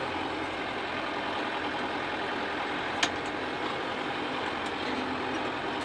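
A farm loader lifts a bale feeder up over a fence, its engine holding a steady, moderately loud drone throughout, with a single brief clank partway through.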